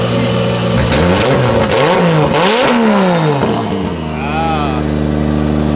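A BMW E46 drift car with a swapped RB25 engine is given short throttle blips, its loud nearby engine swelling and falling in several revs before settling to a rough idle, while people talk over it.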